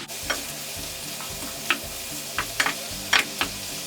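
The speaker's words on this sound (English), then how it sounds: "I'm gonna give that a mix and let everything cook down" Mixed vegetables sizzle steadily in a pan over medium-high heat, a constant close hiss broken by sharp spatula scrapes and clacks as they are tossed and stirred.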